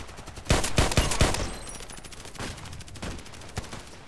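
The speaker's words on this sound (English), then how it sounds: "How many shots were that? 5 on the target?" USP pistol shots in a video game: a quick cluster of several sharp cracks early on, followed by a few more spaced single reports, fairly close and clear with no talk.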